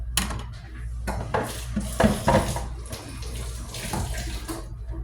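Running tap water splashes steadily over raw chicken being washed in a sink, with clattering knocks of dishes and utensils scattered throughout, close and fairly loud, with no talk.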